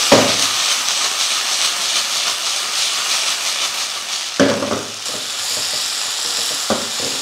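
Vegetables fry on a high flame in a hot pan, a loud continuous sizzle and hiss with a few sharp stirring clanks near the start and later on.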